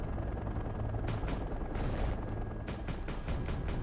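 Military helicopters fly overhead in the battle game Wargame: AirLand Battle. Their rotor drone is joined by scattered bursts of gunfire and distant explosions.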